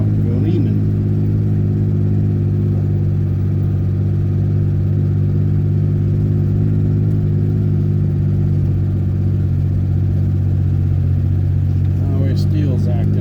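Steady low engine drone from a Toyota Tacoma truck chugging through snow, continuous and fairly loud with a constant idle-like rumble throughout and a brief faint voice near the end.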